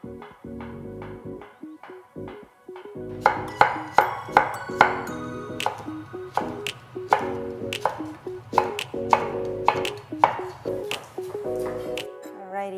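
A knife chops rapidly and repeatedly on a cutting board, slicing onion, garlic and chilies, crisp close taps, slower at first and then quicker and busier.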